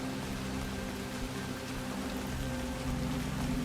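Heavy rain pours steadily in the rainforest of the video game Soulmask, a dense, constant hiss that stays loud and even with no gaps and no voices over it.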